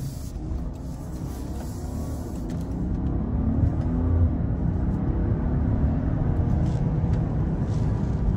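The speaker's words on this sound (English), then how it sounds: "That's giving it the gas, and that 6-cylinder's doing just fine." A 2023 Range Rover P440E hybrid's six-cylinder engine accelerates with a low, smooth rumble that swells gradually and holds steady, heard from inside the vehicle with no talking.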